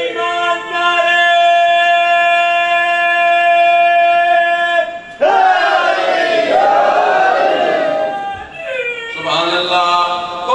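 A crowd at a Muharram majlis chants religious slogans in long, sustained, tonal unison calls that rise and fall. The voices are loud and close, shifting pitch between phrases and ending in a brief shouted burst.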